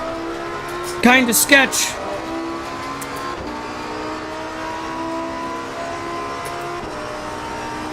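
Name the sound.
McLaren race car engine in video game Assetto Corsa Competizione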